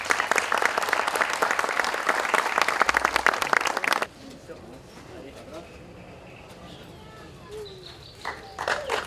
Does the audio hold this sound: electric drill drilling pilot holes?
no